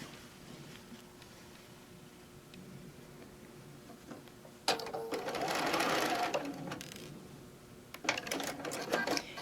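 Sewing machine stitching across a quilt seam, a close, rapid mechanical whir in two short bursts separated by a quiet pause, preceded by faint handling sounds.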